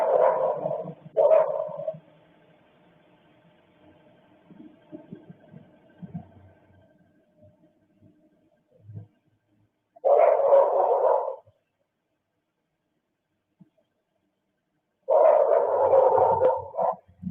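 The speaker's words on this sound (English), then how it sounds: "the dog's barking out on top of that thing" A dog barks outdoors in a few separate bursts spread far apart, muffled and mid-distance, with quiet gaps and faint background noise between them.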